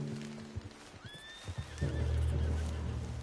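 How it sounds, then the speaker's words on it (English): In the video game Red Dead Redemption 2, a horse lets out a rising, wavering whinny after a few hoof thuds, then a deeper rumbling snort follows, close and fairly clear. "What's wrong with this horse?"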